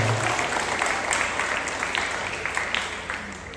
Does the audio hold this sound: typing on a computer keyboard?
no